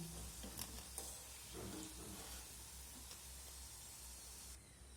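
Pieces of an egg and flour snack fry in hot oil with a steady soft sizzle and hiss, faint and continuous, with occasional small pops and scraping.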